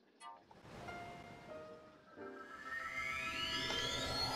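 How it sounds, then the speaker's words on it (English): Waterfalls in Zelda: Breath of the Wild give a soft, steady rushing wash that swells gradually, with rising game music tones layered over it. "Maybe these are the waterfalls it is talking about."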